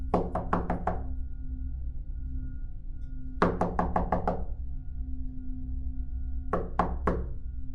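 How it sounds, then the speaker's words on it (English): Knocks on a door in a horror story, delivered in three separate bursts of sharp wooden raps, four or five quick knocks each, over a steady low background drone, with no voices. "there was a knock at the door. 3 slow, deliberate knocks."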